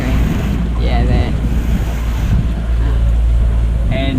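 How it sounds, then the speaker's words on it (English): Wind and waves buffet a sailboat at sea during a night passage from Dubrovnik to Corfu, a loud continuous roar with heavy wind noise on the microphone and brief voices in the background. "the waves are kind of hitting us on the forward half of the boat"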